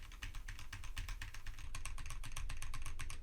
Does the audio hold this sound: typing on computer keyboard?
yes